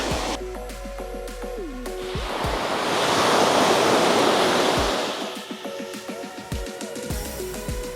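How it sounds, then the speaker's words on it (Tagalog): Strong waves crash onto the shore at Sibang Cove on Calayan Island, a loud surging roar that swells and recedes, with wind noise buffeting the microphone and faint background tones. "Kasi malakas po talaga yung alon dito sa Sibang Cove."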